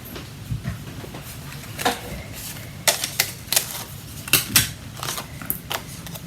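Paper is cranked through a manual cutting machine for making bookmarks, giving a series of sharp mechanical clacks and ratcheting bursts at an uneven pace, close and fairly loud, with no talking.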